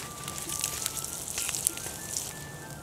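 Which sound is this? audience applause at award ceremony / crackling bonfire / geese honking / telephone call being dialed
crackling bonfire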